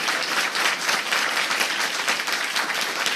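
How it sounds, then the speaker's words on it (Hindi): At a church gathering, an audience claps in sustained applause for the name of Jesus, a dense, steady wash of many hands at even loudness throughout. "तो यीशु नाम के लिए तालियां बजाएं।"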